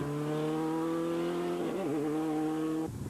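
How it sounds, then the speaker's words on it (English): Latest-spec Subaru rally car powering through the Connor Pass on a 2004 Circuit of Kerry Rally stage, its engine holding a steady loud drone before rapid gear changes and a sudden cut in pitch near the end. "The rapid gear changes of the latest spec Subarus show just where Noel Redmond gets his stage times as he powers through the Connor Pass."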